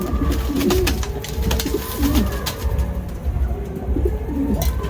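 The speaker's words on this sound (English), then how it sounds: "And pigeons." Pigeons coo repeatedly in low, throaty rolling phrases at a seaside lodging in Dahab, Egypt, steady and fairly close over a constant background hum.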